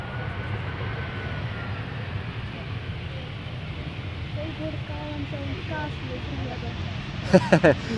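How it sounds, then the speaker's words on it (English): EasyJet airliner arriving from Palma de Mallorca at Amsterdam Schiphol, flying parallel toward the center runway, a distant steady jet rumble with faint scattered chatter over it and a few brief clattering knocks near the end. "EasyJet, arriving from Palma de Mallorca, is flying parallel to it to the center runway"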